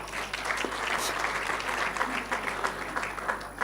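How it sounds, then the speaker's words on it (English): Audience applause for panelists at the close of a live panel discussion event, a steady dense clapping from many hands filling the room throughout, with no talk over it. "may we give the panelists a round of applause"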